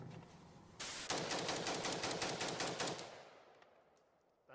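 An AP53, an HK53-clone short rifle, fires a rapid burst of about a dozen loud, closely spaced shots that ring out sharply, then die away into a trailing echo with quiet afterward.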